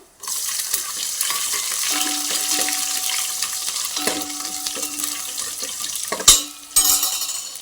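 Cumin, mustard seeds, dried red chillies and crushed garlic sizzle in hot oil for a tempering, a steady bright hiss with faint crackles and occasional stirring scrapes. A sharp clatter and a louder burst of sizzle come near the end.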